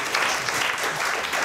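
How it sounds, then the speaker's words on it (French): Audience applause at a French presentation event on immersive technologies, a dense, steady clatter of many hands clapping throughout, fairly close and even in loudness, with no voices over it. "alors applaudissons Régis et ses enfants."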